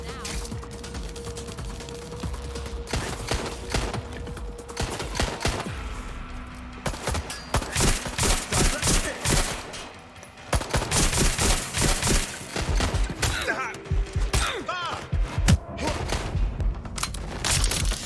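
Sustained gunfire from a Watch Dogs Legion firefight, with repeated bursts and single shots near and far, mixed with in-game clatter and occasional voices.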